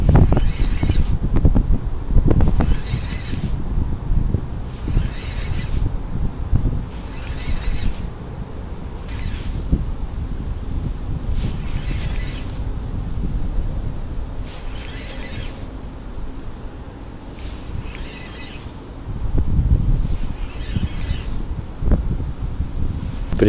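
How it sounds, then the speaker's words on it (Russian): Strong wind buffets and roars against the microphone in heavy gusts by a fast-flowing river, with rhythmic rustling and water-like hiss underneath, and no talking. "при таком сильнейшем течении и сильнейшем боковом ветре прям по руслу дует"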